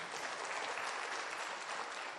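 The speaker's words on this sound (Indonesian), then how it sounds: "Sekali lagi tepuk tangan dong buat para leader di depan." Dense, even applause from an audience at an Indonesian Tiens network marketing seminar, a continuous wash of many hands clapping for the leaders at the front, fairly distant and without speech.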